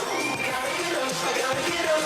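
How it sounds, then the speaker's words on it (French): Studio audience at a live anniversary show applauding and cheering as a guest arrives, a busy, close crowd noise with shouts mixed into the clapping throughout. "Allez, on l'applaudit, Victor."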